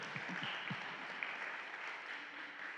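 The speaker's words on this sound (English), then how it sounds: "clap yourself" Scattered audience clapping at an inaugural Thomas Clarkson Day gathering, fairly faint and steady with a few sharper claps near the start, heard at a distance.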